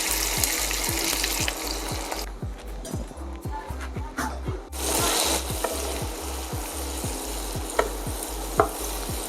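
Three medium chopped onions hit a pan already holding turmeric and Kashmiri chilli, sizzling steadily while a spatula stirs in regular scraping taps, the frying briefly quieter midway before surging back up.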